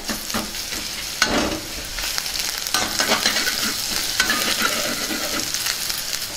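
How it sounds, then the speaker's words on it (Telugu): Chopped onions with ginger garlic paste sizzle loudly in a hot pan while being stirred, the steady crackle broken by repeated scraping strokes of the spoon, close and without speech. "ఇప్పుడు కొద్దిగా అల్లం వెల్లుల్లి పేస్ట్ వేసుకుందాం వీటిని కూడా బాగా వేయించుకుందాం"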